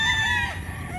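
Rooster crowing close and loud in a Filipino farmyard setting, the call sustained across the whole second with harsh harmonic tone, trailing off slightly near the end amid low background rumble.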